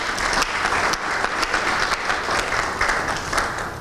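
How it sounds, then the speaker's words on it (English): Steady, dense audience applause fills the room at a constant loudness throughout, with many hands clapping at once and no voices standing out. "I believe you deserve a round of applause for this."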